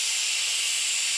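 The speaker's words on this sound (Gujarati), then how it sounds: "અહીંયા જુઓ કુકરની સીટી થઈ એટલે તરત જ મેં ગેસ બંધ કરી દીધો છે।" A pressure cooker on a gas stove vents steam in a loud, unbroken high hiss that holds steady throughout.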